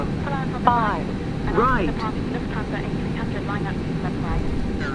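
Air China jet airliner at Taiwan Taoyuan International Airport, engines droning as a steady low roar on runway 05 right, with radio voices talking over it throughout.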